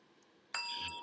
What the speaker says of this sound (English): Yeah, I got a bell.